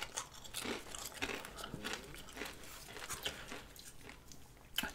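Someone bites and chews a Taco Bell cheesy gordita crunch close up, with repeated crisp crunches and wet chewing at an uneven pace and no talking.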